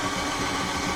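A steady mechanical whir of an Ooni Halo Pro spiral mixer motor running continuously while mixing dough, loud and close, with a low rumbling hum and no pauses.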